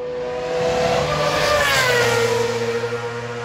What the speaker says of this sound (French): Ça va faire 2-3 tours qu'ils font et ça va des voitures des années 60 jusqu'à 2012 avec la McLaren 2012